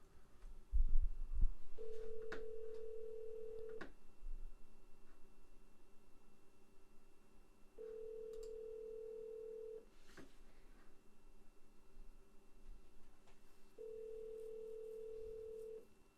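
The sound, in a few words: phone ringing on outgoing call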